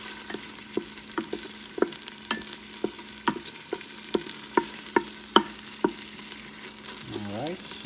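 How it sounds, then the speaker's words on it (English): A spoon scrapes and knocks steadily through onions and tomatoes frying in a pot for crab masala curry, with repeated sharp clacks over a constant low sizzle and no talking. "Let's mix this properly together with the onions so that the onions and the tomatoes get mixed"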